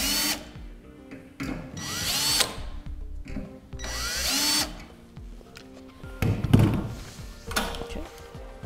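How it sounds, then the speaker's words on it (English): A power drill whirs in several short bursts, drilling starting points for holes, spinning up and down with gritty drilling and occasional knocks between runs. "We can just go ahead and use a drill bit to make our starting points."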